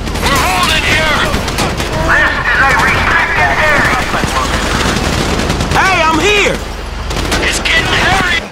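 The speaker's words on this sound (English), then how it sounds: "So I guess we are shooting our way out of here!" Gunfire in Grand Theft Auto 5 during a shootout at Paleto Bay, dense bursts of automatic fire crackling continuously under loud shouted dialogue and siren-like whines.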